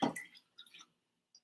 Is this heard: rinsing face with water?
yes